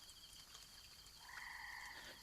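Frogs croak steadily near water on a misty night, their calls layered in a continuous chorus with a brief brighter trill standing out.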